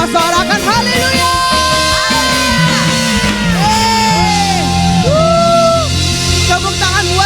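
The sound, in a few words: church congregation shouting hallelujah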